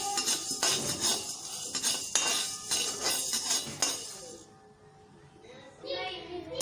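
Peppercorns and cloves are dry-roasted in a kadhai, with metal clinks and scrapes against the pan coming in irregular bursts. A quiet lull follows before a short rustle of stirring returns.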